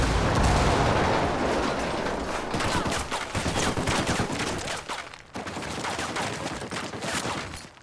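Gunfire and a grenade blast from the video game Ghost Recon Wildlands, with dense overlapping shots and booms filling the whole stretch, loud at first and staying busy throughout.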